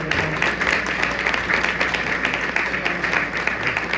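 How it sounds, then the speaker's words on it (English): An audience at a Republican statewide candidates' gathering claps for an Attorney General nominee, a steady, dense wash of many hands that holds at an even level for a few seconds, without speech over it. "Would you give him a clap?"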